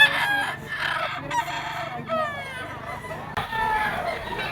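Roosters crow repeatedly among other chickens at a poultry sale, the cock-a-doodle-doo calls loud and near, overlapping one another with a steady background hum.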